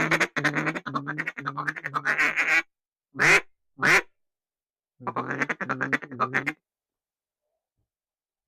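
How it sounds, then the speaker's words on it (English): Ducks in flooded timber in Arkansas answer with a few short bursts of quacking: a long run of calls, then two brief squawks, then another cluster, close and fairly loud, separated by stretches of silence. "So those were the ducks calling back."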